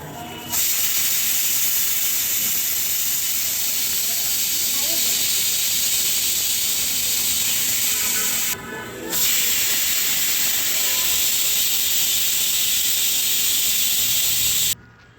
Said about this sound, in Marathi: आता टोपण लावून मी त्याचे 3 शिट्ट्या काढून घेणार आहे कुकरचे।